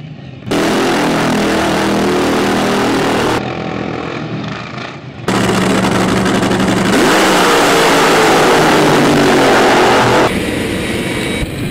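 An AA Fuel Altered drag car at an Alaska raceway, its engine roaring loud and close in long, harsh blasts with a brief drop between runs.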